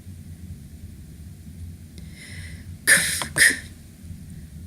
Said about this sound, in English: Quinn surrenders to a coughing fit.